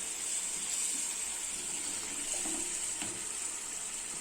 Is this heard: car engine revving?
no